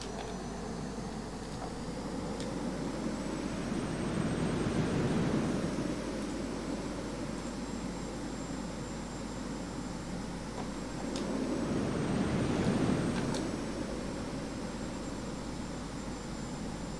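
An airliner taxiing at Thessaloniki airport: a steady broadband jet engine rumble and whine heard from inside, with a thin high tone running throughout and two slow swells in loudness, no talk.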